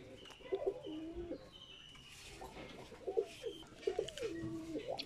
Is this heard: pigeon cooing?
yes